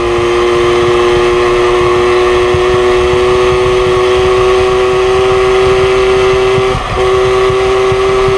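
Loud, steady buzzing drone of a Peugeot 103 SPX moped engine while riding, holding an even pitch throughout with one brief dip near the end.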